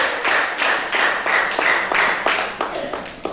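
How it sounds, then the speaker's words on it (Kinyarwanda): A church congregation welcomes a newly married couple with rhythmic hand clapping, a steady run of loud, close claps that swells and fades slightly over a few seconds. "Tugomere Imana amashyi menshi cyane ko tubakiriye mu muryango"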